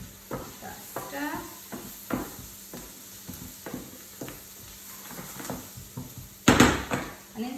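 Katsu curry sauce with a heaped teaspoon of medium curry powder being stirred in a pan, a series of short scraping strokes over a soft sizzle, ending with one louder clatter.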